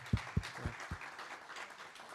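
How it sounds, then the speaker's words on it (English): Applause at a medical congress, heard as a few distinct, fairly close claps at the start that fade into a softer, thinner patter of clapping. "and Marcus, applause, please, for you."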